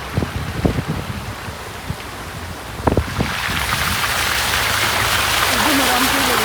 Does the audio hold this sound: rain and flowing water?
yes